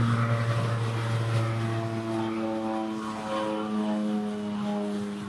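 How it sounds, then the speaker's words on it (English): A propeller airplane takes off near a boat on Vancouver Island, its engine drone steady and loud with a sustained low tonal hum that slowly shifts pitch over about five seconds. "We've just seen a plane take off."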